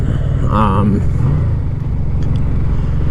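A 1996 Yamaha VMAX motorcycle engine runs with a steady, close, low rumble throughout, and a voice briefly rises over it near the start.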